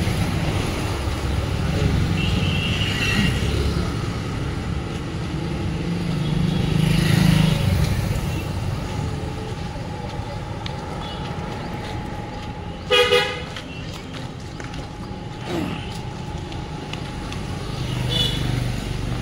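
Continuous road traffic rumbles past on a busy evening street in Nashik, with engines swelling and fading, and a short, sharp car horn honks partway through.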